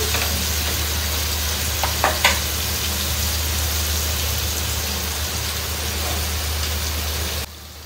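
Masala-coated chicken frying in a covered pan, a loud, continuous dense sizzle like heavy rain with a low hum underneath, cutting off abruptly at the end.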